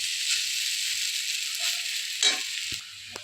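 Vegetables fry in a little oil in a pan for chowmein with a steady, close hiss of sizzling. A brief louder flare and a couple of small clicks come near the end before the sound drops quieter.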